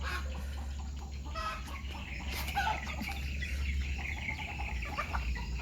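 Free-range kampung chickens clucking in and around a coop, soft repeated clucks and calls over a constant low hum, fairly close, no talking.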